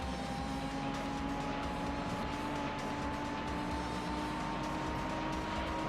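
Race cars in the PS2 game Gran Turismo 3, a steady engine drone with a sustained whine and faint rumble of other cars nearby, continuous and even in loudness, no talk.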